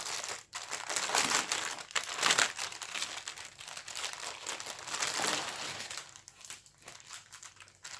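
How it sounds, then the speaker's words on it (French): A plastic bag wrapped around cross-stitch fabric crinkles and rustles steadily at close range as it is handled and opened, the busy crackling thinning into scattered crackles toward the end. "Donc elle est emballée dans un sac plastique."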